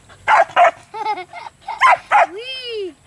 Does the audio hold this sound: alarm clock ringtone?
no